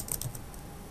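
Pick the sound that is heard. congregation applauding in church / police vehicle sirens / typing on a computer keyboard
typing on a computer keyboard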